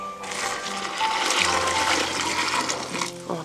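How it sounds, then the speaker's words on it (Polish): Five litres of water gush into a metal baking tray in a home kitchen, a steady, loud pouring splash lasting throughout, with no talking. "I teraz dajemy wody."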